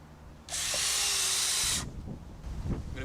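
A power drill drives a screw into a board on a wildlife pond build, one loud high whirring burst of a little over a second, then it cuts off into quieter handling knocks.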